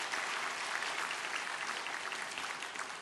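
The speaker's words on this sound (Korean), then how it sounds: "여기까지 인도하신 우리 하나님께 감사의 박수를 다시 한번 올려드리겠습니다" A congregation at a Sunday service at Yeouido Baptist Church claps together in thanksgiving, a steady wash of many hands sustained throughout the moment and heard from a moderate distance.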